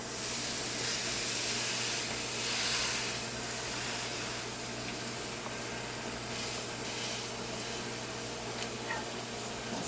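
Hot skillet sizzle as Boston butt pork is laid in, a steady hissing crackle with a constant low hum underneath, fairly quiet and unbroken.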